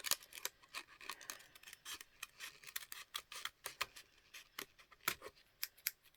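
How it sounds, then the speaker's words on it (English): Scissors snip and trim paper for a junk journal page, making shallow clean cuts in a quick, irregular series of crisp close-up snips with no talking. "I'm going to just get in here and trim that out very shallowly, and that'll make a clean cut for me"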